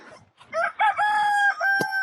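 A rooster crows close by on a small micro farm where chicks are kept, one drawn-out crow rising and holding steady, followed by a short extra call at the end.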